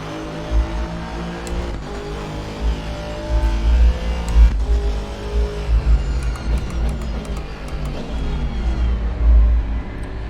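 Race cars in a multiplayer racing video game roar with steady engine drone, rising revs and gear shifts, loud and continuous throughout with no voices.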